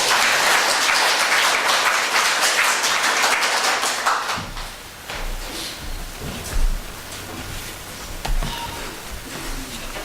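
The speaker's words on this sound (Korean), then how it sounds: "박수로 한번 하겠습니다." A church congregation breaks into loud sustained applause for about four seconds, then the clapping fades into scattered rustling and thumps in the hall.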